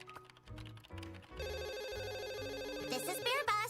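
Telephone ringing in the video game Duck Detective: The Secret Salami, a repeated electronic ringtone pattern with steady tones over background game music, fairly faint.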